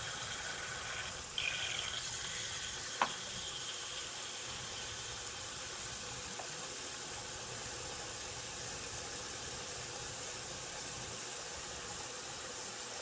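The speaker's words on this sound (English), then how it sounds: "Turn my filter back on and filter again." Vacuum filtration of a rinsed precipitate in a chemistry lab for gravimetric analysis, a steady even hiss of suction and trickling liquid throughout, with a couple of faint clicks early on and no talking.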